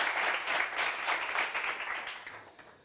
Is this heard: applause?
yes